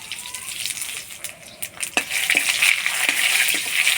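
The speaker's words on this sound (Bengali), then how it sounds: "ফোড়নে দিয়ে দিব শুকনো লঙ্কা, তেজপাতা, থেতো করা আদা আর পাঁচফোড়ন।" Dry red chillies, a bay leaf, crushed ginger and panch phoron sizzle and crackle in hot oil for a lentil dish, a steady loud frying hiss with sharp pops and stirring clicks.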